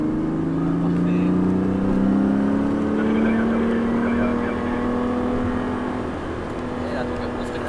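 A car engine held in third gear while driving uphill, a steady droning tone climbing slowly in pitch as the car pulls, loud and close from inside.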